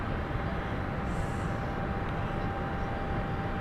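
Aircraft departing London City Airport, a steady distant engine roar heard continuously at moderate level with no voices.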